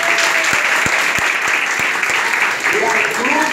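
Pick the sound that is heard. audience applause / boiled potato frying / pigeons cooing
audience applause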